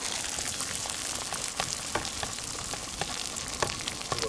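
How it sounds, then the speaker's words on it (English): Eggs sizzling as they are scrambled in a skillet at an outdoor campsite, a steady, dense crackle with occasional sharper pops and scrapes, continuous and fairly loud with no talk. "Let's scramble them in the skillet."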